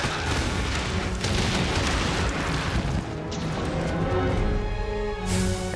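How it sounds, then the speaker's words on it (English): Exploding pine cones thrown by a Bishaten monster in the Monster Hunter video game, heard as dense, continuous booming blasts that fill the whole stretch loudly with little pause. "this Bishaten throws exploding pine cones"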